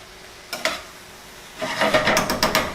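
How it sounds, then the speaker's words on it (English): Red beans and rice stirred in a cooking pot for Jamaican red beans and rice, a spoon scraping and clattering in short bursts, one knock early, then a denser run of scrapes, nearby and moderately loud with no talking. "I'm going to stir this all up."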